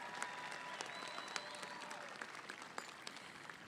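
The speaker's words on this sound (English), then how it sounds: "Let's give all these students a round of applause for their accomplishments." Steady applause from a large crowd at a high school graduation ceremony, many hands clapping continuously with a few sharp claps standing out.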